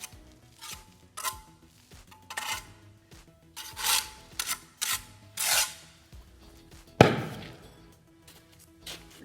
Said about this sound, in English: You're going to hear a lot of scraping,